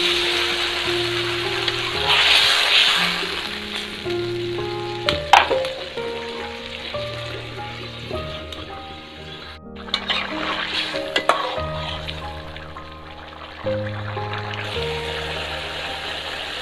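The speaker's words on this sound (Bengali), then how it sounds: "এখন এগুলো অল্প অল্প করে পানি দিয়ে কষিয়ে রান্না করে নেব।" Pigeon meat with boiled potatoes and chopped coriander sizzles loudly in a pan as small splashes of water go in and it is stir-fried. A continuous hiss is broken by occasional scraping stirs, with soft music underneath.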